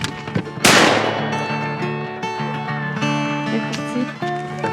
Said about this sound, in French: Les tirs se faisaient pas entendre assez vite, fait qu'on va se pratiquer.